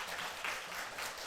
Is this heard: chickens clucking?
no